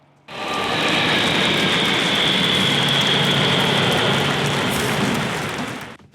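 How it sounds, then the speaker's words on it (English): Military aircraft fly low over a parade on Khreshchatyk Street in Kyiv, producing a loud, sustained jet roar that swells in quickly, holds steady for several seconds and then fades away. "Aircraft fly in the sky over Khreshchatyk Street, modern helicopters and planes, fighters, bombers, transport and rescue aircrafts"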